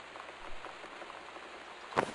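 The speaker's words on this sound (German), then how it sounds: "Und dann noch regnet wie heute." Steady rain patters softly and continuously in the video game Gone Home, with a single heavier thump near the end.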